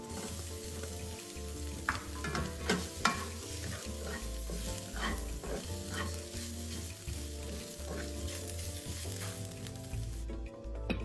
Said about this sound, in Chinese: 加入香菇一起煸炒